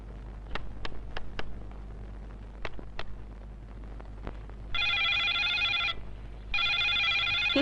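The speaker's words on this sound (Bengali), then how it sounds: "কি হলো, ফোন ধরবে না?" A telephone rings in two long electronic trills, loud and close, preceded by scattered sharp clicks and taps over a low steady hum.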